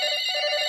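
A telephone rings with a continuous bright electronic trill that holds steady and loud across the short moment, alone with no voices.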